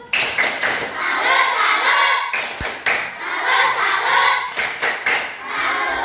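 A school class claps together in a steady rhythmic pattern, dense and loud, with brief pauses between bursts and children's voices mixed in.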